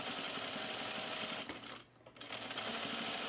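A sewing machine stitches thick fleece fabric in a fast, steady mechanical run, pausing briefly in the middle before resuming at full speed, close and alone.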